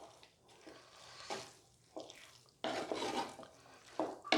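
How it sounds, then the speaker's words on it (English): A spoon stirs a thickening sweet akkaravadisal mixture of rice and milk in a pan over low-medium heat, giving soft intermittent scraping strokes with quiet pauses between them, close up and faint. "Keep it in low medium and keep on stirring this"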